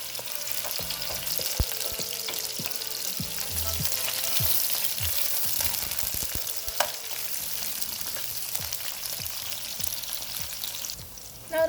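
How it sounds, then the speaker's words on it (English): Onion and garlic sauteing in hot oil, a steady crackling sizzle with occasional stirring clatter of a utensil against the pan, moderately close and without talk. "I'm going to add my onion and garlic and saute them until slightly brown."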